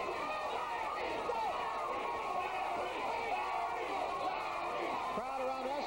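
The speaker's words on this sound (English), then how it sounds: "Crowd around us chanting, Larry, Larry" A large boxing arena crowd at a Larry Holmes heavyweight fight, a dense continuous roar of massed voices and chanting with a commentator talking over it.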